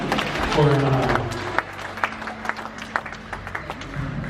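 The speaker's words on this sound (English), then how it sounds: "And how about a round of applause for Saivani" Audience applause at a pageant segment featuring traditionally inspired wear, clapping from the crowd under a voice and low tones early on, then thinning into scattered separate claps toward the end.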